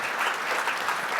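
A short, dense burst of steady applause from an audience at a premiere, clapping for climber Adam's first ascent.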